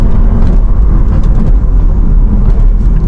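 A Porsche Taycan electric wagon accelerates and shifts into second gear, heard from inside as a loud, steady low road and drivetrain rumble with no distinct shift event standing out.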